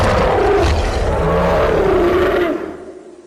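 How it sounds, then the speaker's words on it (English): A creature gives one long, loud, screaming, bellowing roar, harsh and rough-edged, sustained for over two seconds before trailing off, heard alone and close. "A screaming, bellowing roar, unlike anything I've ever heard"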